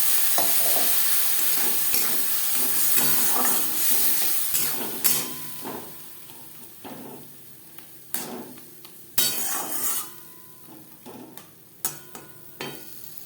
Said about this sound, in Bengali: পেঁয়াজ টমেটো রসুনের সাথে বেশ ভালো করে মিক্স করে দেব